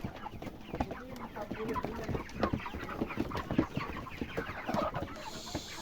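Chickens cluck and squawk at close range inside a coop, a busy overlapping flock with frequent short calls and scattered louder outbursts throughout.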